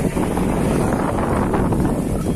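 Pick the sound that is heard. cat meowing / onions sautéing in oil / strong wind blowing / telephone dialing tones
strong wind blowing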